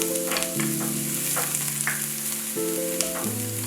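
Celery sautés in olive oil in a hot pan on medium heat, a steady close sizzle with stirring scrapes over background music.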